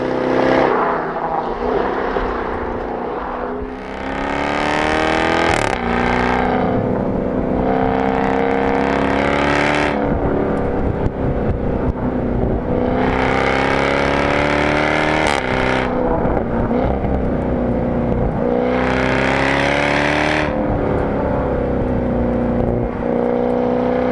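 A 2021 Jaguar F-Type R grand tourer driving hard, loud engine revving up through gears in repeated rising sweeps with brief dips between shifts, heard from close by for over twenty seconds.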